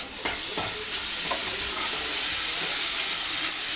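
Chopped tomato goes into browned, frying onions in a pan, giving a steady hissing sizzle with a few soft stirring thumps and scrapes underneath, continuous and close, no talking.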